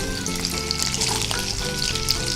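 Potatoes frying in hot oil make a dense, continuous crackling sizzle with occasional soft stirring, close and steady with no speech.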